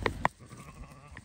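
Two short bleats from Afghan breed female lambs near the start, followed by a quieter farmyard background with a faint call near the end.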